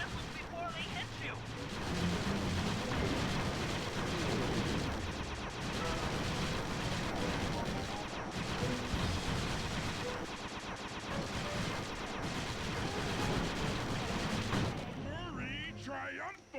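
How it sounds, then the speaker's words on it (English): A rusty pre-war turret in the Sly 2 video game fires on enemy missiles, a dense continuous barrage of gunfire and explosions that stays loud throughout, with a voice speaking partway through. "Now be a team player and take it out with that rusty pre-war turret."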